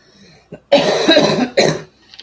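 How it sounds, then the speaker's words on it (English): An adult with a sinus-laden cough lets out a pair of close, loud, harsh coughs indoors, the second shorter than the first, with quiet breathing around them. "This cough might keep me awake though."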